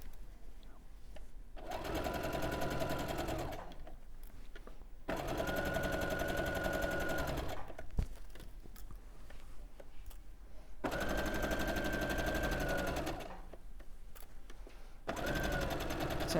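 A sewing machine stitches in a sleeve on a dress, running in four steady buzzing bursts of a few seconds each, separated by short pauses, heard up close.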